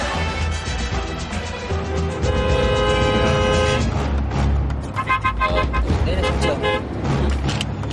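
Busy road traffic with car horns honking in several sustained toots over a loud, dense rumble of engines, with a voice talking briefly.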